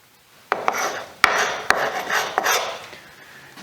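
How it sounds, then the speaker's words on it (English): A freshly sharpened scraper strips old paint off wood in a Victorian house, producing several loud, rasping strokes close up, each starting with a sharp click or catch, with no talking. "it really makes a difference having sharp tools taking this paint off"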